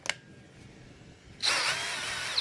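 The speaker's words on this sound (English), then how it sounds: "All right, let's drill it up." In a glassblowing studio, a power drill kicks on after a short quiet pause and runs with a steady high whine to the end, fairly close and alone, with a faint click just before it starts.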